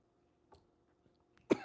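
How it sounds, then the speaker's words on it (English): A person coughing indoors in cold weather: a soft throat sound midway, then one sharp, close cough at the end in an otherwise quiet room. "I'm coughing."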